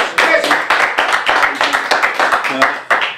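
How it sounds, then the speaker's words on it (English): A studio audience claps for an interview guest in brisk, steady applause that carries on for several seconds, loud and close. "You'd have had one more person applauding you"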